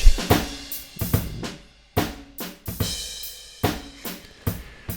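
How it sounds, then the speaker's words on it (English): An acoustic drum kit plays a loose groove, with punchy kick and snare hits and washy cymbals, close and alone with no talking. "Drums that were recorded specifically to go along with an amen break."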